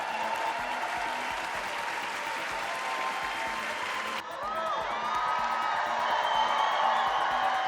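At a presidential debate between Biden and Trump, an audience breaks into sustained, dense applause that keeps up steadily, with scattered cheers and whoops mixed in.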